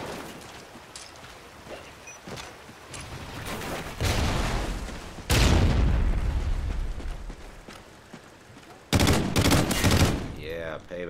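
Automatic rifle fire from Call of Duty: Ghosts multiplayer on Xbox 360, with loud rapid bursts of shots at intervals over quieter game noise and clicks.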